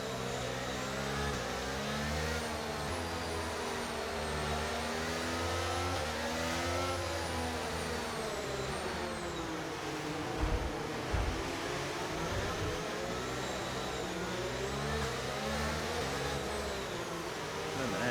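Formula 1 race car engines from the F1 23 video game at the Miami circuit roar and rev continuously as the field accelerates away at a restart after a virtual safety car, a loud sustained drone with shifting pitch.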